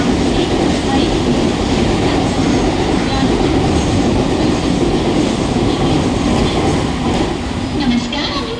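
Mumbai local train at a railway station platform: dense, loud, continuous rumble of rolling carriages with wheel clatter, close by, under a faint background station announcement.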